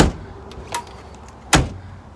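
Door handle on a stripped-down VW Mk1 race car with weight deletes being worked, followed by the door opening: a faint click, then a sharper metallic clunk and latch release about a second later, close by with no talking.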